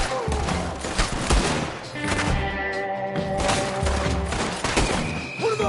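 Gunfire in Red Dead Redemption 2, an Old West video game: a close, loud volley of overlapping shots and impacts, dense and continuous, mixed with in-game clatter and faint voices.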